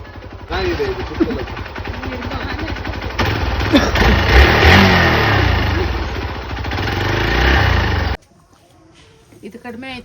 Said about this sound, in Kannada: ನನ್ನ ತಮ್ಮನ ಬೈಕಲ್ಲಿ ಕುತ್ಕೊಂಡು ಎಕ್ಸಲೇಟ್ರ್ ಕೊಡ್ತಿದ್ದಾನೆ ನನ್ನ ಮಗ